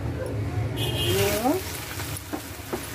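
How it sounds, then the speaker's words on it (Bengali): Onion paste fries in hot oil for a beef kofta curry, a close steady sizzle with stirring scrapes, while a voice speaks briefly over it. "পেঁয়াজ পেস্টটা একটু ভেজে নেব"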